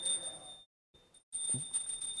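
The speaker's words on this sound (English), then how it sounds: "please ring the bell as you do so" A hand bell is rung during a dhupa incense offering ritual, its bright sustained ringing tone persisting close by with a short gap before it resumes.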